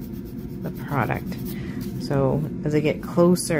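A nail file rasping product off a fingernail during nail maintenance, a soft, scratchy back-and-forth rubbing that runs steadily beneath a person talking throughout.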